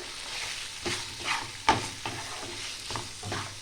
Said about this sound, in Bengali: আলুগুলো দিয়ে আমি একটু নাড়াচাড়া করব।